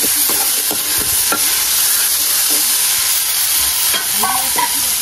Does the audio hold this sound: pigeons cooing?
no